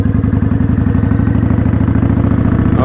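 A motorcycle engine pulling away in first gear as the clutch is let out and throttle applied, a loud, close, steady chugging rumble with rapid even pulses and a faint mechanical clatter.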